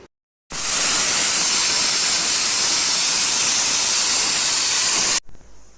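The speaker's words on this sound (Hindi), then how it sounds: "3 से 4 विसल आने के बाद अब हम इसे जो है ठंडा होने के लिए रख देंगे" A loud, steady rush of hissing steam from a pressure cooker whistle bursts on suddenly, holds for several seconds, then cuts off abruptly, leaving faint background noise.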